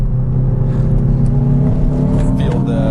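Hyundai i20 N small sports car on Pirelli P Zero tyres, its four-cylinder engine accelerating hard with a loud, steady, close-up engine drone throughout.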